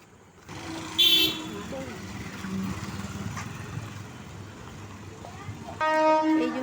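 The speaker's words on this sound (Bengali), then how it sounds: "ট্রেন যাচ্ছে" A train passes with a steady low rumble and a loud horn blast twice, once near the start and again at the end, while a voice speaks nearby.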